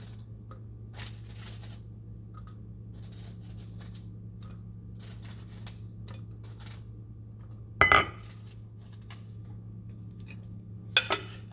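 Seafood bites tossed in a garlic parmesan mixture in a bowl, giving soft steady rustling with two brief sharp clinks of utensils against the dish, close and fairly quiet.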